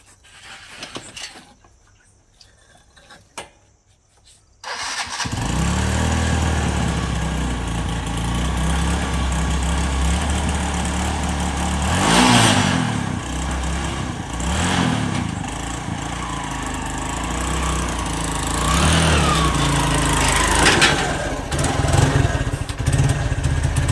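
After a few quiet seconds, a motorcycle engine starts and then runs loud and steady nearby, a continuous low rumble that holds to the end with no talking.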